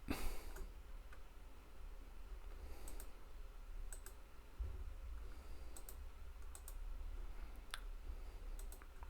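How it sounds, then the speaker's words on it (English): Faint, sparse mouse clicks sound while a page is being edited in the systeme.io web builder. They are irregularly spaced over a low, quiet background hum, with no talking. "So if we click on the picture"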